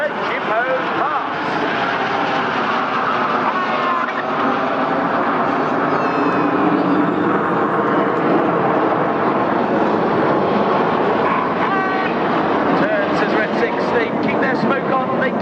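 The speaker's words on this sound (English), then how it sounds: "4 jets descending to just 100 feet. Their closing speed is now 820 miles per hour." Red Arrows jets fly a low pass at about 100 feet during an RAF air show at Clacton-on-Sea, a loud, sustained roaring engine rush filling the whole stretch, with a voice talking over it.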